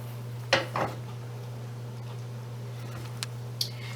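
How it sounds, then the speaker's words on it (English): A spatula shifts a Mexican omelette around in a pan, giving a couple of quick scraping knocks early on and then sparse faint taps over a low steady hum. "Now I can take my spatula and slowly start moving it to make sure it's cooked"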